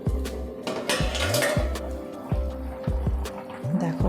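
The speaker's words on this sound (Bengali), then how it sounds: "এবারে এই ব্যাটারটা স্টুতে ঢেলে দেবো।" Batter is poured from a bowl into a pot of chicken stew, producing repeated wet glugging drops and soft clinks of the vessel, close and fairly loud with no speech.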